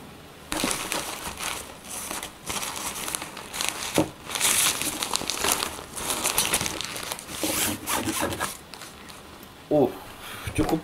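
Packaging being torn and crinkled while unboxing an ultralight solid carbon jigging fishing rod, with close rustling, ripping and crumpling in irregular bursts. People talk at times over it.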